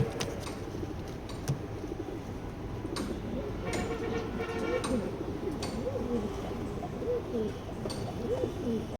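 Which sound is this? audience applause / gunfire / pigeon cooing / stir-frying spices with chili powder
pigeon cooing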